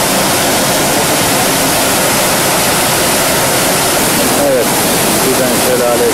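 Düden Waterfall in Antalya, a loud, steady broadband roar of falling water, continuous and close, with faint voices underneath.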